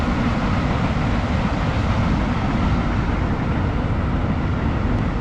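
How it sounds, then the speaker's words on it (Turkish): A loud, continuous low rumble and roar of a train passing nearby, steady throughout with no voices. "Çok sık tren geçiyor arkadaşlar"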